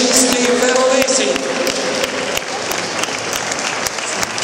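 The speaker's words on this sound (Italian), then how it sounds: "io vi esorto ad applaudire questi super collaudati musicisti veronesi" Audience applauding Verona musicians of a band at a live concert, dense steady clapping filling the room throughout, with some voices mixed in.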